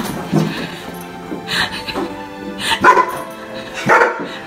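A German Shepherd barks and yips excitedly in short, uneven bursts, close and fairly loud, with a person's voice mixed in between.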